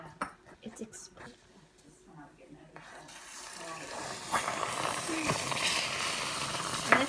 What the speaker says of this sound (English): Now we must let the icing boil for 1 whole minute